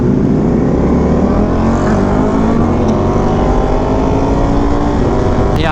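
Ducati 1299 and V4R motorcycles with the same exhaust on a canyon group ride, their engines droning loudly and steadily with a rising revving pitch, close by and without talk.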